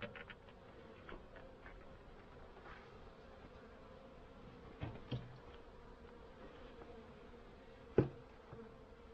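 Honeybees in a winter hive in Pennsylvania, a faint, steady low buzzing hum with a few soft knocks and taps over it.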